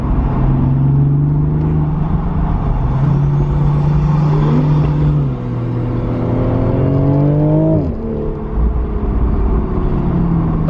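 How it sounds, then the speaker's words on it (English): A yellow Nissan Skyline R34 GTT drives alongside on the road, its engine note rising and falling through gear changes under steady cabin road rumble, loud and close, with no talking. "It's definitely not a GTR, it's a yellow GTT coming up right next to us."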